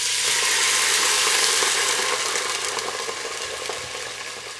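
Crushed garlic cloves fry in oil with coconut soda added, giving a loud, dense sizzle and crackle close by that eases off slightly toward the end, with no voices.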